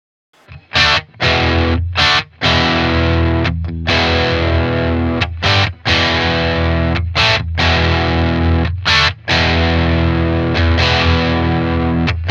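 A distorted electric guitar through a Boss Katana amp on a patch plays chunky, crunchy chord riffs with brief rhythmic gaps between punchy strummed stabs.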